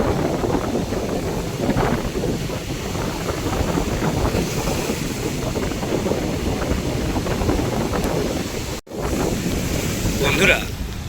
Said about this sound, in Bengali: দেখো ঢেউয়ের এক অপুরন্ত দৃশ্য কী সুন্দর ঢেউ পাড়ে